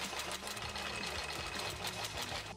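A sewing machine stitches down the corners of a fabric tote bag, a steady, dense mechanical whir with rapid needle knocking that runs continuously and close up, with no talking.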